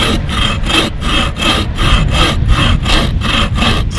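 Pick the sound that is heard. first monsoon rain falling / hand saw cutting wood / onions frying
hand saw cutting wood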